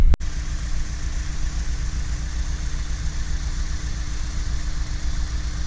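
A Honda S2000 with an aftermarket exhaust idles with a deep, steady exhaust rumble, continuous and close, after a brief click at the start.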